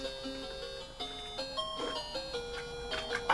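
Tetris music from a plug and play 5 in 1 video game, a faint chiptune melody of quick stepping bleeps with soft clicks behind.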